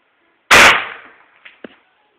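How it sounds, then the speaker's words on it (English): A mini cannon fires airsoft BBs at a beer bottle: a single sharp, loud blast that decays over about half a second, followed by two faint clinks. "that's what happens when you shoot Airsoft BBs out of a cannon"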